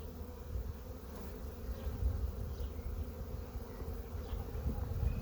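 Honey bees hum steadily around an open hive during an inspection of a small colony, a dense, continuous close buzz with no talking.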